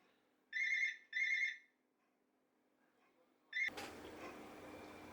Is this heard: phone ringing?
yes